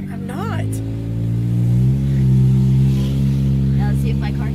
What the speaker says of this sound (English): Now let's see if my car can make it up this hill